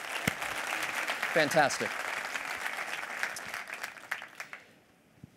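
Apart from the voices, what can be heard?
audience applause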